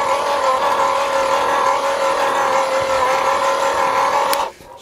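A battery-powered AEG post hole borer fitted with a 1-foot (300mm) auger drills into the ground at its lowest speed, a steady, loud motor whine holding an even pitch throughout before cutting off abruptly near the end.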